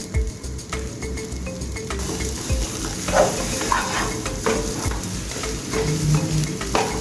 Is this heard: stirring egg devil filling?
yes